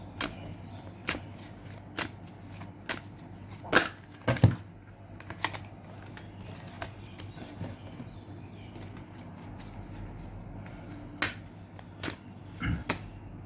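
Oracle-style advice cards are shuffled and handled close by, producing scattered soft taps, flicks and snaps with a few sharper clacks over a quiet room hum, no voice.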